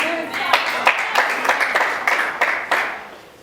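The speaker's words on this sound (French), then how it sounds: "I have some few people who have clapped." A few people clap at a Dominion Singles & Married Academy graduation ceremony, sparse claps that rise and fade over a few seconds under a talking voice.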